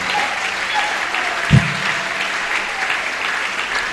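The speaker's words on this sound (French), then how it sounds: "acclamez pour la gloire de Dieu." A church congregation claps in a dense, steady wash of applause filling the room, holding at an even level throughout, with a brief thump partway through.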